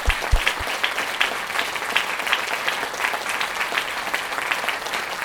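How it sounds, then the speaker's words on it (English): Studio audience claps for a podcast guest, a steady and moderately loud patter of many hands lasting several seconds, with a few low thumps at the start. "Big round of applause."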